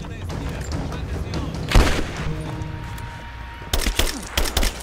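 An assault rifle fires in the video game Rise of the Tomb Raider, with a sharp burst in the middle and a rapid cluster of cracking shots near the end, set against game ambience and voices.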